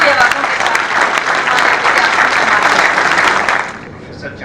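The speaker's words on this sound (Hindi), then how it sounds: "और अब आप सबकी जोरदार तालियों के बीच में बुलाना चाहूंगी श्री दीपक चौरसिया जी को" A lecture audience bursts into loud, sustained applause to welcome a guest speaker, the news anchor and journalist, dense clapping that holds steady, then thins toward the end, with a voice faintly audible underneath.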